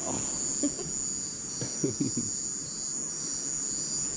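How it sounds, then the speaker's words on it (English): Steady, high-pitched cricket chirping fills the night air continuously at a Caribbean island campsite, with a few faint soft knocks and brief low sounds in the background. "Listen to those crickets."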